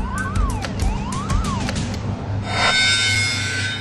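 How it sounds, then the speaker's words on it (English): Offshore oil platform gas alarms from the production deck sweep up and down in quick repeating wails, then give way to a steady harsh hiss with a low hum underneath. "These gas alarms are all from the production deck."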